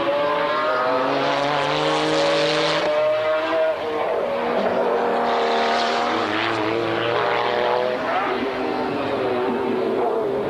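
A customer Porsche 993 GT2 twin-turbo race car screams past during a 1995 BPR Global GT Series round at Jerez, its loud high-revving engine note climbing through gear changes under a commentator's voice.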